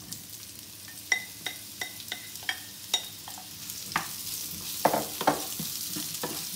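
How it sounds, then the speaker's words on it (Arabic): Onions and red, yellow and green sweet peppers sizzle in a pan, with a string of crisp spatula scrapes and clicks at a fairly even pace over a constant frying hiss, heard close up without voices. "نقلو البصل ونزيدو عليه الفلفلة"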